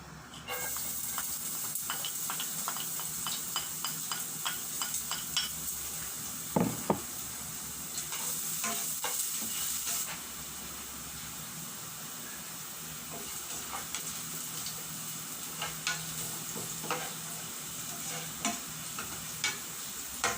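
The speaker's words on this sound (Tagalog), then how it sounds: "Ating iprito ang bawang or garlic." Garlic frying in a pan for a special adobo with oyster sauce, a steady close sizzle and hiss with scattered crackles and a few louder pops, continuous throughout with no talking.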